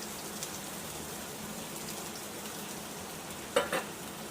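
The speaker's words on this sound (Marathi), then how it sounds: "मस्त असा हा कांदा परतून घ्यायचा आहे" Chopped onion sautés in a little oil in a pan, giving a soft, even hiss that carries on faintly, with a brief pair of clinks near the end and no talking.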